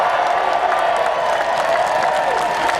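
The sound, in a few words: applause from a rally crowd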